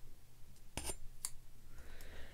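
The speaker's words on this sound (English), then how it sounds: "Let's peel these little plastic bits off of the end." Thin plastic protective pieces are peeled off the end of a new Apple Wireless Keyboard during unboxing, heard as a couple of brief crisp crackles and snaps close up in a quiet room.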